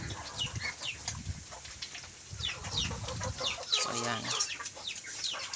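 Chickens on a farm in the rural Philippines cluck and call off and on, fairly faint against the background, while a person talks briefly nearby.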